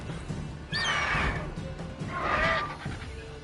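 Two clear, close horse whinnies from The Witcher 3: Wild Hunt, a shrill rising neigh followed a second later by another, over a low game ambience with faint hoofbeats and no speech.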